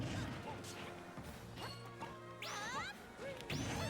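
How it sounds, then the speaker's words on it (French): Banjo's grenade in Super Smash Bros goes off with a sharp crash and thwack, set amid continuous busy game effects, rising whooshes and tones. "Ah, encore une fois la grenade."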